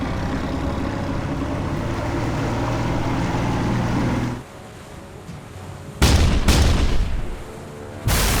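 Heavy rumbling engine noise from a warship cuts to near silence, then two deep booming blasts from the forward 5-inch guns ring out, followed by another sharp report at the end.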